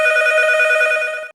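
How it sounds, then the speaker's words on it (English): A single electronic telephone ring sounds alone, bright and steady for just over a second before cutting off abruptly, loud and close in a staged audio drama. "The phone rang."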